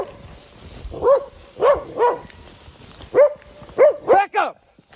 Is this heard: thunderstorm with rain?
no